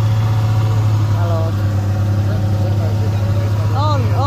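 A car engine, part of a car enthusiasts' outing, idles with a steady low rumble and a constant drone throughout, while people talk over it nearby.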